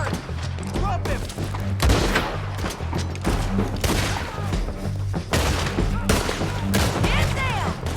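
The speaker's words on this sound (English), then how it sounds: "Shoot the bastard! Drop him!" Gunfire in the Red Dead Redemption video game: rapid bursts of shots and booming reports crackle through a chaotic firefight, repeated loudly over several seconds while voices shout over the action.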